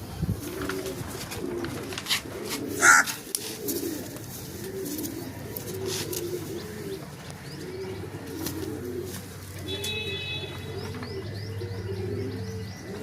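Paired pigeons coo steadily in a soft, repeating rhythm close by, with a few chirps and light rustles over a low background hum; no one speaks.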